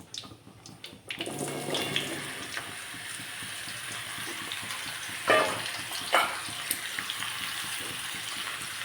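Diced bottle gourd drops into hot oil with five-spice tempering and sets up a steady, close sizzle and hiss, with a couple of sharper spatters and stirring scrapes partway through.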